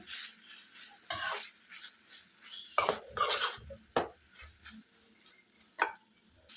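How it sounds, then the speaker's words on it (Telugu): A metal spoon scrapes and clinks against a pan while okra is stirred with ginger garlic paste, making irregular clattering strokes over a soft frying sizzle, close up and with no speech. "సో అల్లం వెల్లుల్లి పేస్ట్ వేసుకున్న తర్వాత ఇంకోసారి మిక్స్ చేసుకుందాం"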